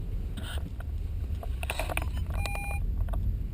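A short run of rapid electronic beeps from the parking sensor of a Volkswagen Golf Mk7 rises over low rumbling engine and wind noise.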